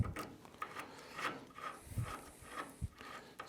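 A castle nut being worked loose on the front end of an MEV Exocet kit car, with short scraping, rubbing metal sounds and faint clicks in a quiet workshop, close and fairly soft.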